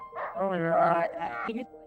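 A big sled dog gives a drawn-out, whining howl-like bark, close and fairly loud, rising and wavering for over a second before cutting off.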